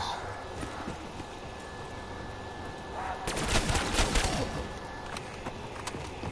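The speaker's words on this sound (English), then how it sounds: "I have the ray gun and the Zeus cannon." Ray gun and Zeus cannon fire in the Call of Duty zombies map Kino der Toten. A dense burst of rapid shots erupts midway over a constant bed of game noise, followed by a few scattered later blasts.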